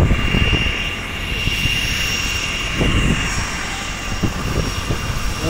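A helicopter sits on a helipad ready for takeoff, its engine running loud and steady with a continuous droning whine and rhythmic rotor pulses throughout.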